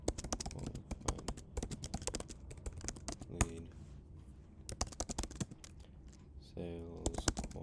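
Quick, uneven clatter of keys on a computer keyboard, loud and close, with typing bursts broken by brief pauses and a voice speaking quietly between and over the keystrokes.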